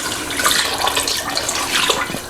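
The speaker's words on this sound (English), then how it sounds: "what we need to be doing is going in with some water." Water poured steadily from a tap into a cooking pan with vegetables, making a continuous close splashing rush.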